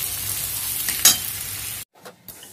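Ginger frying in a pan with already browned onion and potato, a steady hiss of sizzling with one brief louder stir, then the sound cuts out near the end, leaving only faint crackles.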